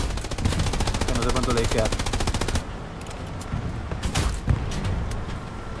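Rapid machine gun fire in the WWII shooter Hell Let Loose, a dense rattling burst for the first half that then breaks off, with scattered distant shots and a louder bang after, under voices talking.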